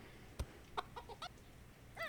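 Faint, sparse chicken clucks and short squawks in a ranch farming simulator video game, a few isolated calls ending in a brief rising cackle, over quiet background hum.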